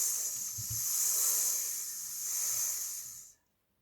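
A person imitates a snake's hiss with a long, steady breathy sss sound, close and fairly quiet, swelling slightly twice before stopping abruptly.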